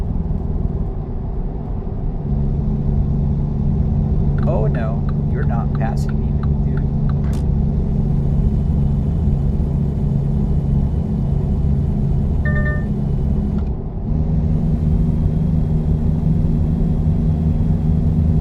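A loaded truck engine laboring uphill in a driving simulator game, a steady low rumbling drone throughout, with a voice speaking briefly over it.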